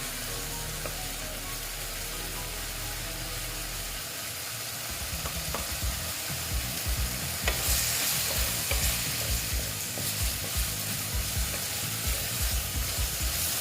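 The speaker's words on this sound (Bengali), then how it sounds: "আমি এখানে একটু ভালো মতন কষিয়ে নিচ্ছি" Chana dal and potatoes sizzle and fry in a pan while being stirred, with steady hissing and repeated scraping strokes that grow busier partway through, close and continuous with no talking.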